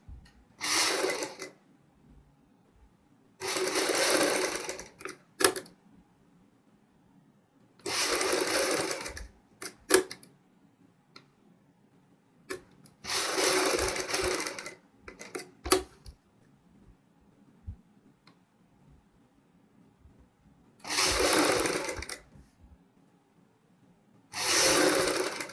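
A sewing machine stitches a strip around a net section of a girl's fancy dress, running in six separate bursts of steady rapid whirring with quiet pauses between them, close and clear with no talking.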